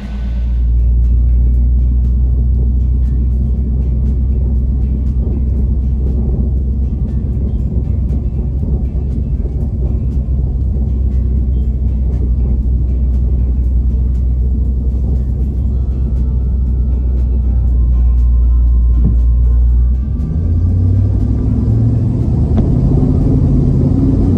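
1976 Chevy van running after a one-pump start, a loud continuous low engine rumble idling and then driving off, with rising tones as it pulls away near the end.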